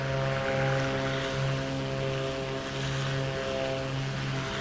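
Twin-prop drone of a Black Square Baron 58 in flight within a flight simulator, a loud steady engine hum with layered harmonic tones holding throughout, no voices over it.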